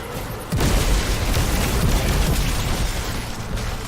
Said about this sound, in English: the game didn't spam explosions at us like it does all the time